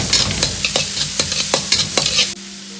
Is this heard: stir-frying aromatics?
yes